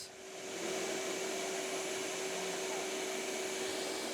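A cordless sander works a wood surface down to 500 grit, giving a steady close whirring hiss with a constant motor whine that starts up and holds evenly throughout.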